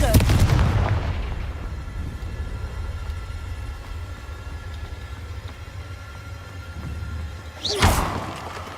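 A Confringo blasting spell in the Hogwarts Legacy game sets off a booming explosion at the start, then a rumbling fade. A second, sharper blast comes near the end.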